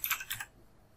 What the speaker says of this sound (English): we need to type on the Windows in the search